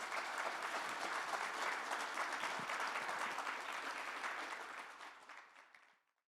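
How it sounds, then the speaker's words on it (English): An audience at a luncheon applauds a government minister, sustained dense clapping from a crowd that holds steady and then fades out to silence. "a round of applause for Minister Reiter, please"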